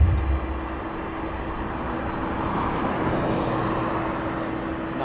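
An aircraft on final approach at East Midlands Airport at night, a steady broad jet roar heard from a distance, holding even and sustained with a faint low hum beneath and no voices.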